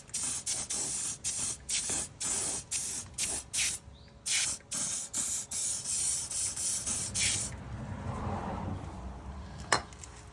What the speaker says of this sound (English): I'm going to spray it with some GT85 which I've got on the shelf.